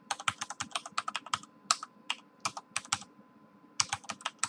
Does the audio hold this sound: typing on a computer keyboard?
yes